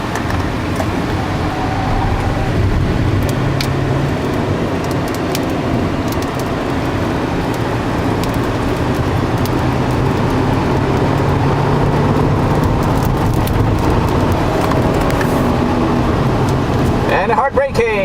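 Audi car accelerating hard through second, third and fourth gears, heard from inside as a steady loud engine and road drone running the whole time, with a person talking over it.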